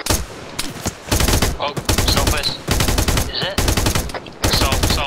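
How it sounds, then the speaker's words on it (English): Gunfire in ARMA 3, loud bursts of rapid automatic shots in several volleys separated by short pauses, close and sharp, with a brief voice exclamation between bursts. "Gunshot."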